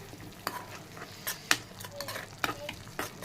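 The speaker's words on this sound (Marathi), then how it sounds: "काश्मीरी मसाला पेस्टसोबत छान असा मिक्स करून घ्यायचा आहे" Kashmiri masala paste being stirred into chicken in a pan, soft sizzling under a steady series of spatula scrapes and occasional metal taps, fairly quiet and close, no talking.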